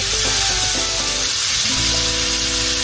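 Four cloves of minced garlic, with chopped shallot, sizzle steadily in a hot pot while being stirred for a Cajun chicken pot pie; a loud, continuous frying hiss runs throughout.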